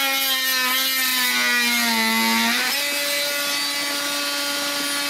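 An oscillating saw cuts through sewer pipe during a pipe repair, giving a loud, close, continuous buzzing whine whose pitch dips and then rises again as the blade bites, with no talking.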